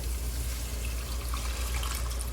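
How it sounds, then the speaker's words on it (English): Tamarind water is poured into a hot pan to deglaze it while a Sri Lankan-style tinned jack mackerel fish curry is being made, giving a steady, low-level liquid wash with faint sizzle and no talking. "we're gonna kind of just deglaze the bottom of our pan a little bit with that tamarind water"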